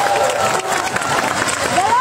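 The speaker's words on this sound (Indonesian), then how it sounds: "boleh minta tepuk tangannya?" Crowd at a city anniversary stand-up comedy show claps and cheers on request, a loud, busy mix of hands and voices close by, with shouting and excited chatter over the applause.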